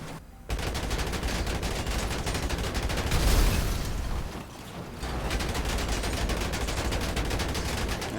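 Rapid gunfire in GTA 5 Online, aimed at the rear of a Hijak Ruston car, keeps up a dense, loud stream of shots almost all the way through, with a brief dip in the middle.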